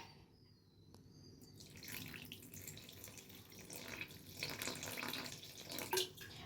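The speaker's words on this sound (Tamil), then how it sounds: "இப்போது நம்ம தண்ணி ஊற்றி அப்படியே நம்ம பிசைஞ்சு" Water poured from a container into badusha dough in a home kitchen, a soft close trickle and splash that builds over several seconds, quiet and alone without talk.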